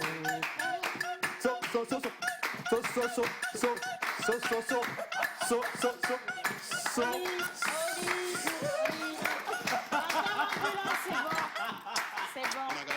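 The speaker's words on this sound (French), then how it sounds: "ceux qui ont applaudi, qui ont apprécié la chanson" An audience claps after a song at a gathering, steady dense applause lasting throughout, mixed with voices, chuckles and some laughter close by.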